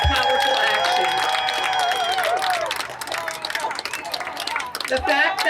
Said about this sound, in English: Give Vice Chair Vargas a huge round of applause for her powerful action.